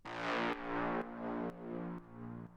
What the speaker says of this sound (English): we've got this drone sound.